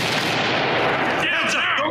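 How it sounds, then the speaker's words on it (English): A flashbang grenade goes off during close-quarters tactical gameplay in Ready or Not, a loud sustained boom and rumble with a fading ringing tail. "Flash one. Get a bang out there."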